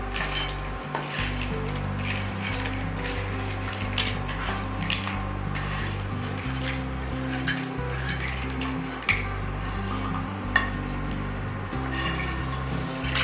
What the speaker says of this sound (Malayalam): നുറുക്കി വെച്ച കഴുകിയ ഞണ്ടിൻ്റെ പീസസ് ഇടണം